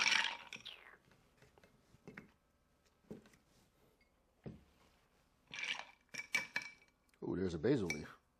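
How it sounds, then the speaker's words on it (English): A spoon stirring a Black Widow cocktail over ice in a glass, close-up clinks and rattles in short bursts with quiet gaps, and a soft voice speaking between them. "Now we stir in the chill."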